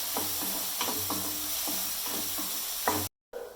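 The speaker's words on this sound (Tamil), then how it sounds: "கொஞ்சம் சிம்மில் வச்சே வதக்கணும்." Tomatoes sauté and sizzle in a pan on low flame for chutney, a soft steady frying hiss broken by repeated spoon-stirring scrapes and knocks, ending with a brief cut to silence.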